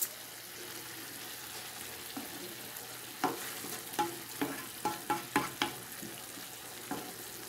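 Lentils simmering in a pan with a little water and spices over medium heat, a steady soft sizzle and bubble with a run of sharp spoon scrapes and stirring knocks in the middle.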